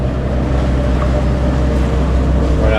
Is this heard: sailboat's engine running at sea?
yes